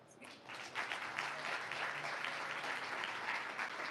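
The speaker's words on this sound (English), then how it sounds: "Let's give them one more round of applause" An audience at a charity event gives a round of applause, dense steady clapping that swells after a brief start and holds strong throughout, no voices over it.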